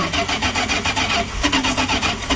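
A 1970s Dodge street machine van with a newly fitted, unadjusted Jegs carburetor cranks over on its starter, giving a loud, close, rhythmic churning that pulses several times a second and never catches.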